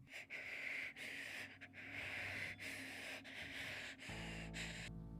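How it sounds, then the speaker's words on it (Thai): Heavy, ragged breathing as a horror-story sound effect, a continuous rasping wheeze with breathy hiss, broken by short pauses between breaths and fairly close and loud, with a low rumble entering near the end. "รู้สึกเหมือนใครมาหายใจแรงๆ"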